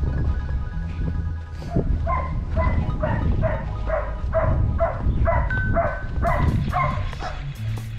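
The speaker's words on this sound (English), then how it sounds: "Yeah, Matt's dog's barking all the time" A dog barks in a repeated run of sharp, close barks at an outdoor pool area in Spain, about a dozen in quick rhythm, loud and clear.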